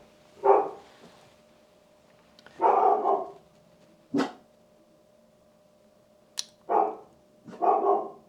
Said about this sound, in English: Dogs are growling.